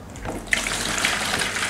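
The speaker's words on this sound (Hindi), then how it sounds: "देखिए मैं सिर्फ पानी डालता हूँ" Water pours steadily into a turtle aquarium tank, a close, continuous splashing gush that swells after a brief softer start and carries on without pause.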